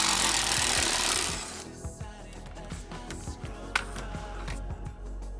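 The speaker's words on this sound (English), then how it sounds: "So I've got a 8mm on this little impact here," An 8mm impact driver backs skid plate bolts off a 2017 Ford F-150, starting with a loud continuous burst, then dropping to a rapid rattling hammer of impacts that continues steadily close by.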